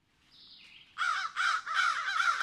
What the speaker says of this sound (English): the American crow and the fish crow. And they have a slightly different sound.